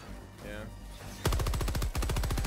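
Stalwart machine gun in Helldivers 2 firing in rapid, tightly spaced bursts, loud and close, with a short pause between two long strings of shots after a stretch of quieter game noise and a voice.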